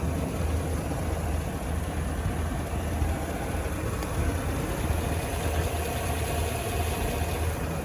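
A 2020 Chevrolet Silverado 2500 HD Texas Edition LTZ pickup idles in a smooth, even low rumble with a steady hum, heard close and unchanging throughout with no voices.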